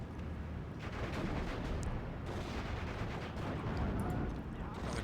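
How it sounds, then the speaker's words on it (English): Bombs and gunfire from a bombing run in the WWII strategy game Steel Division: Normandy 44 make a dense, continuous rumble of explosions and crackling shots with a few sharper bursts. "Another decent bombing run there"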